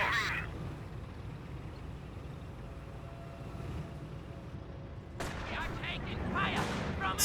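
Gunfire in a Company of Heroes 1 battle as a US sniper is shot, with distant crackling shots and rumbling battle noise under a steady bed, then sharper bursts of fire near the end.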